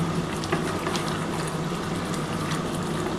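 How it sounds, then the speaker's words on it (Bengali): Hot water is poured into a chicken and potato curry in a pot, a steady close liquid rush and bubbling that runs unbroken throughout with no talk. "আমি একটু গরম জল করে রেখেছি, এই গরম জলটা দিয়ে দেবো।"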